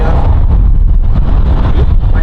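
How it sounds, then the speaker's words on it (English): Wind gusting across an outdoor motocross track in Moriarty, New Mexico during an intermission, a loud continuous buffeting rumble on the microphone with dust blowing through. "It's not cold, it's just a little windy, some dust blowing through."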